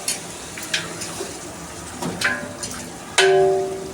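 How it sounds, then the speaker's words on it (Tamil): Tomatoes being stirred into chicken biryani masala in a pan, with a soft sizzle under scattered spoon scrapes and clinks, ending in a sharper metallic clank with a brief ringing tone. "தக்காளி போட்டு நல்லா மிக்ஸ் பண்ணலாம்."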